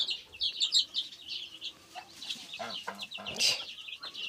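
Small poultry chirping busily while eating, a dense chorus of high cheeps and clucks, close and continuous, with soft pecking and rustling underneath.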